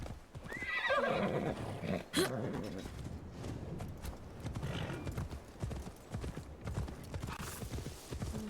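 Hooves clip-clop steadily while a horse in Assassin's Creed Shadows whinnies loudly near the start, with more neighing and snorting over continuous hoofbeats.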